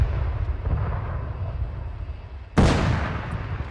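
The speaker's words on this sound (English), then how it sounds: "Hearing some heavy fire." Heavy gunfire rumbles from an Arma 3 battle, a dense low roll of distant shots, then a sudden loud close burst at the end that rings out and slowly decays.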